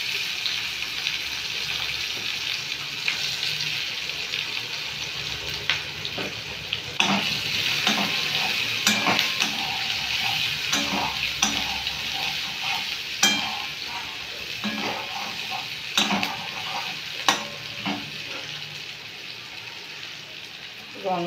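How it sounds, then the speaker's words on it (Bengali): Onion frying with panch phoron in hot oil in a wok, for a katla fish curry. A loud, continuous sizzle comes from close by, with a spatula stirring and scraping at intervals; a voice speaks faintly under it. "তেল গরম হয়ে এসছে, পেঁয়াজটা দিয়ে দিলাম।"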